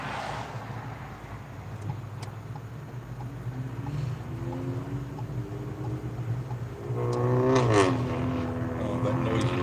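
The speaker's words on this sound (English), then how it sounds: "Oh, that noisy car." A noisy car passes by, its engine droning up with rising and falling tones before swelling louder near the end, under a steady background rumble.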